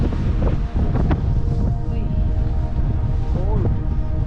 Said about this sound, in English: windy